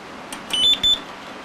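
A file server gives two short electronic beeps just after power-on while its case is being swapped, the tones close together and clear over a faint background hum.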